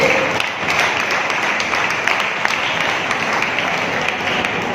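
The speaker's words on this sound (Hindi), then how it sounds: "तालियां हो जाए हमारी मातृशक्ति के लिए" A crowd at an RCM pin celebration event applauds women members who stand for recognition, with thick, continuous clapping that stays loud and even throughout.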